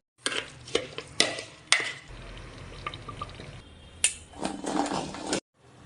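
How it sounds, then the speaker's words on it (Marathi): A spoon stirs thick, cooked puran, a lentil filling with sugar just added, in a pot, making a series of wet scraping and squelching strokes with short pauses between them, close and fairly quiet. "पुरण शिजलाय, साखर टाकूया."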